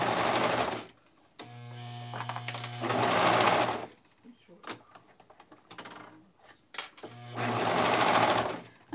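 A sewing machine bastes fabric pieces together in two long close-up bursts of rapid, even stitching, with quieter handling noises and short pauses between them.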